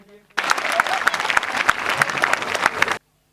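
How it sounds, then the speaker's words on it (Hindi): A coaching-institute audience at a Sunrise Day 2022 event gives Amit sir a loud, continuous round of applause that runs for under three seconds, then stops abruptly. No voices are heard over it. "तो एक बार अमित सर के लिए सभी एक बार जोरदार तालियां बजा दीजिए।"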